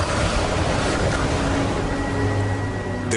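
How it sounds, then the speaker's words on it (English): Rough seas pound a small fishing boat, the Strider, in a steady wash of loud, close surf and rushing water with wind noise, continuous throughout. "rough seas slam a small fishing boat named the Strider"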